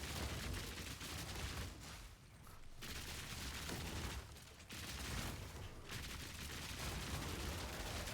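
Rapid bursts of automatic Tommy gun fire in the video game Path of Exile 2, dense and loud, arriving in long volleys broken by two short pauses.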